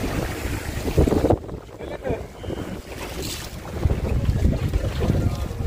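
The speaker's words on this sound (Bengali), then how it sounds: "বিরাট ঢেউ হচ্ছে" Gusting wind buffets the microphone while big waves surge and slap around a fishing boat in the Sundarbans, a rough, churning roar rising and falling throughout.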